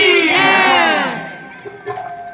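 A large temple crowd bursts into a loud, unified shouted response praising Gopeshwar Mahadev, the chant swelling then fading after about a second into scattered voices and faint clapping.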